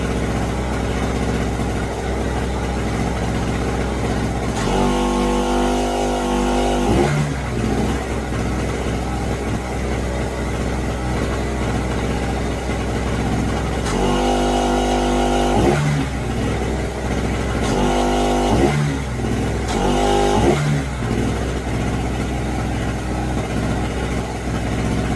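A Pulsar 1200W generator runs steadily, powering a compressor that fills a 200 PSI air tank; a continuous engine drone is heard throughout, with a few louder, harsher bursts of mechanical load noise at intervals, close and loud, with no talk.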